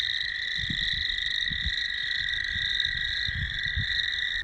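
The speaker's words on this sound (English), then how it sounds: "You can hear the spring peepers. The frogs are already up in the ponds." Spring peeper frogs call from ponds in the Minnesota woods in spring, a dense, continuous chorus of high shrill peeps forming a steady wall of sound, with soft low thumps and rustling beneath.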